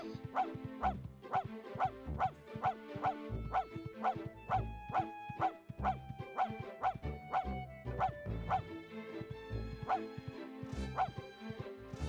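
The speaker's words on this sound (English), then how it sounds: "At least there's a dedicated bark button." The dog Max barks repeatedly in The Grinch PlayStation video game, a rapid run of short, sharp game barks over looping background music with no talk.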